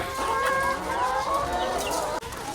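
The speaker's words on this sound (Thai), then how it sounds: "ไก่ไข่ที่ลงไว้ที่นี่นะครับ ประมาณ 200 ตัวนะครับ" A flock of around 200 laying hens on a farm, clucking and calling over one another in a dense, continuous chorus close to the microphone, with no talk over it.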